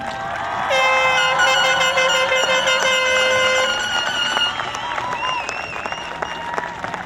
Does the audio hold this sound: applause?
yes